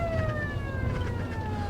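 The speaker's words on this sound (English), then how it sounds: "We're going to hit the old siren and see if we can call these old cows up" A ranch siren wails steadily, sounded to call cattle, loud and continuous with a slowly gliding pitch over low rumbling background noise.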